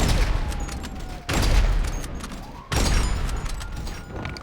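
Two loud, booming shots, about a second and a half apart, fired at a jet in a video game, each with a broadband blast that slowly decays over a rumbling engine drone.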